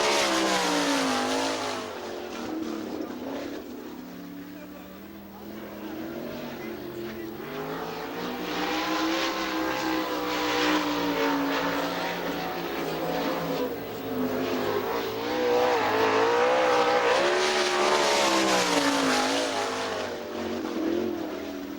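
Sprint cars racing at Hartford Speedway Park, engines screaming and rising and falling in pitch as they sweep around the track, loud and sustained with overlapping cars passing.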